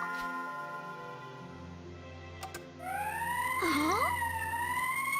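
A siren wails in the Valkyria Chronicles video game, its rising and falling tone starting suddenly after a quieter stretch with a brief click, then sweeping loudly and continuously to the end.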